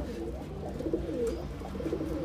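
Babra pigeons coo close by in soft, repeated throaty calls over a low steady background hum.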